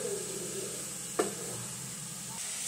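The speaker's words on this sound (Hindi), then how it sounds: "फिर इसके बाद हम जिंजर गार्लिक का पेस्ट वो कर लेंगे फ्राई अच्छे से उसको। उसके बाद हम डाल देंगे सारी वेजी जो हमने किया है चॉप।" Chopped vegetables fry with ginger garlic paste in hot oil, giving a soft, steady sizzle. A single sharp stir or scrape cuts through near the middle, and no voices are heard.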